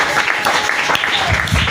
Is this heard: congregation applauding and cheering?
yes